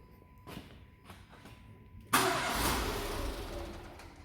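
A Renault Modus engine starting with a jump lead earth: a few faint clicks, then the engine catches with a loud burst and settles into a steady idle.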